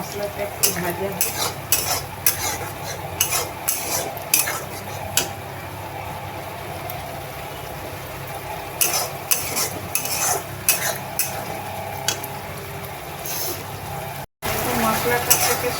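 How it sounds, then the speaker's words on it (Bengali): Masala spices frying in a little oil in a pan for a mixed vegetable and aloo bhaja dish: a steady low sizzle with frequent rhythmic spatula scrapes and taps, busier at the start and again midway. "মশলাটা একটু ভাজা হোক।"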